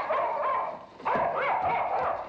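A dog barks and whimpers in a domestic scene from a 1972 sitcom, steady yelping and whining cries close by with a brief pause midway, no speech over it.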